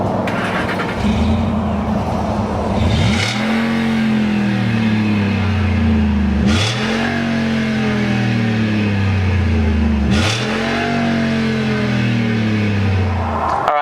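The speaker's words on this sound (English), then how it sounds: "let's hear what 411 horsepower V8 power sounds like" A 2011 Ford Raptor pickup with a 411-horsepower V8 and 90,000 miles revs hard three times in succession, each loud climb dropping back between, with no voices.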